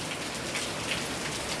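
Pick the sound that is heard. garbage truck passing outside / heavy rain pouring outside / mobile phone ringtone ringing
heavy rain pouring outside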